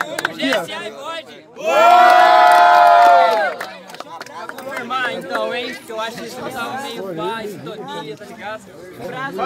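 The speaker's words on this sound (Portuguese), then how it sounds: "Faz muito barulho, mas barulho com vontade." A rap battle crowd lets out a loud sustained shout together, then breaks into excited overlapping chatter and calls, close and lively.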